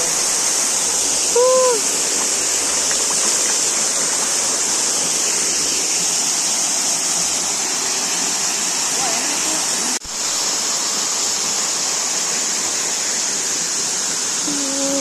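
Cakrawadana waterfall flowing, a steady loud roar of falling water that holds unbroken throughout, with brief faint chirps rising above it.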